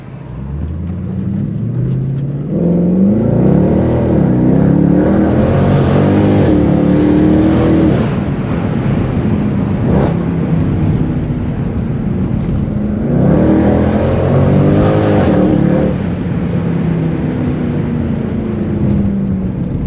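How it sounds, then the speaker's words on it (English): Mercedes-Benz C63 AMG W204 V8 accelerating hard up a steep hill, two loud sustained surges of engine roar with rising pitch through the gears, heard from inside the car with no talking. "Watch how fast this car munches this fucking hill."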